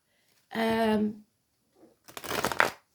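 Tarot cards riffle in two quick shuffling bursts, close and crisp, with a brief soft rustle between them.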